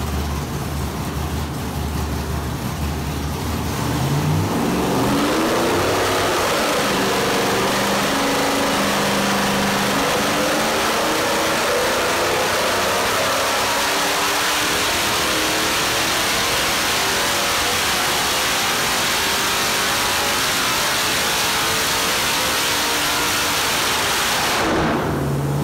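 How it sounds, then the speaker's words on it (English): A 6.2 liter LS3 crate V8 fitted with a Super Victor intake manifold runs on a dyno, revving up loudly from idle into a sustained, rising roar and holding at high rpm before cutting off near the end. "let's take a look and see what happened when we installed the Super Victor intake, and we'll watch that baby run and see how it does"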